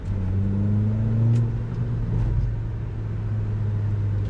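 A 2012 Kia Forte Koup engine accelerates with a low, steady rumble and a rising tone, heard from inside at moderate level with no talking.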